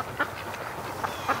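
Ducks behind a house by the water give a few short, scattered quacks, fairly faint at a distance.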